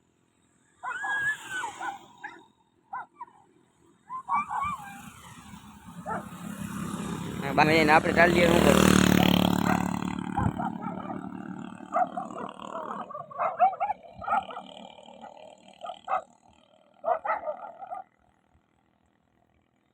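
Several dogs bark and growl outdoors, swelling into a noisy stretch midway, while people talk nearby before and after.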